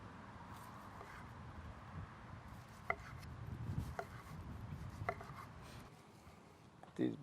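A knife slices through a juicy cooked steak on a board during a firewood cookout, giving a few sharp, distinct cuts and scrapes over steady outdoor wind and background rumble.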